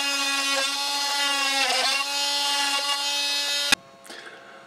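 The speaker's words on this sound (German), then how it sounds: "Habe dann jetzt hier so einen Multischneider." An oscillating multi-tool cutting into wood for a router-table clamp in a workshop, a loud, close, steady high-pitched buzz that stops abruptly near the end, leaving a brief fading rattle.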